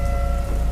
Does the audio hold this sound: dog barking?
no